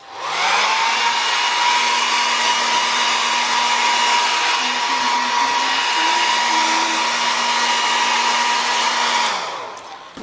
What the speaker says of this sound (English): I'm going to dry this with my hair dryer.